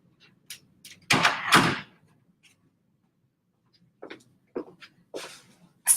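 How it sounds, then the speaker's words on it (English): An office door swings and shuts with a soft bump, followed by scattered faint clicks and small rustles in an otherwise quiet room. "I'm going to close my door while we chat"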